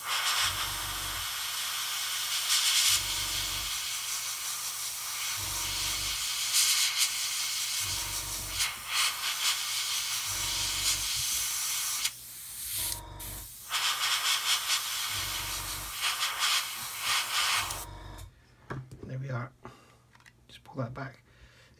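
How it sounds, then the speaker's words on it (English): An airbrush sprays paint in a steady hiss, sounding in repeated short bursts close by with a faint low hum underneath, then stops near the end as light handling noises follow. "and then airbrush in that area"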